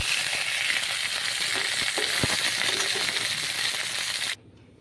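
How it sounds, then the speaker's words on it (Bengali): Loud, steady sizzle of fish frying in hot oil, with a few light clinks from a utensil, cutting off abruptly near the end. "তেল দিয়ে মাছগুলো ভেজে নেব"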